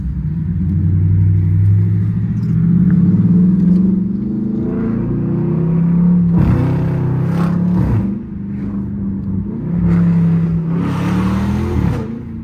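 A catless Chrysler 300 SRT's engine and exhaust rumble loudly and continuously at night, its deep drone swelling and falling with revs and sharp shifts, with small burbles at the end.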